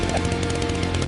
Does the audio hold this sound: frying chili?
no